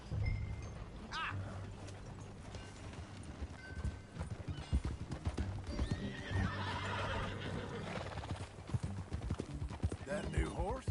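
Horse hooves clip-clop steadily in Red Dead Redemption 2, with whinnying and neighing from the mount breaking through, all under loud game music and character dialogue.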